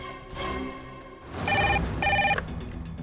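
A telephone rings twice in short electronic bursts, close and clear, over a quiet, murmuring background.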